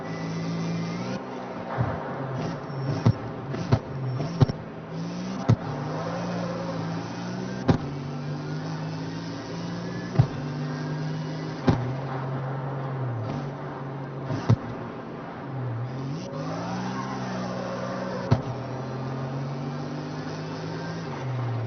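A car engine with an upgraded turbo in the CarX Street racing game, holding a steady loud drone that rises and falls in pitch as it accelerates and shifts, with sharp clicks scattered throughout.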